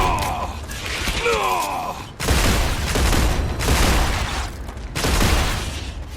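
Sustained bursts of weapon fire in the video game StarRupture, loud and close, broken by brief pauses between bursts, with mechanical clanks and sweeping tones at the start.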